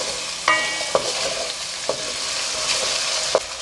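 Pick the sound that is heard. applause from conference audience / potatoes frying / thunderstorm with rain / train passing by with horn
potatoes frying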